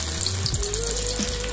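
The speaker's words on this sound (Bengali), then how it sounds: "আলুগুলি শুকিয়ে গিয়েছে, এখন আমি অল্প অল্প করে দিয়ে ভাজবো।" Potato strips frying in hot oil for homemade french fries, a short steady hiss and bubbling sizzle, close and fairly quiet, with a faint low hum underneath.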